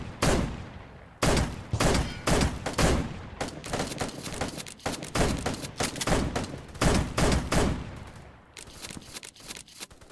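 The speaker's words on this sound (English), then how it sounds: "Who's shooting at me?" Rapid bursts of gunfire from a shooter video game ring out close and loud, clustered volleys with short gaps, with no talking over them.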